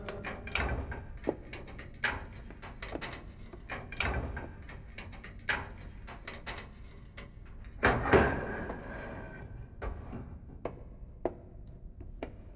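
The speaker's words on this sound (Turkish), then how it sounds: "Kapıyı aç." Clattering mechanical clanks and ratcheting knocks from a prison ward door being unlocked and opened, close and fairly loud, with a strong burst partway through and scattered metal hits after.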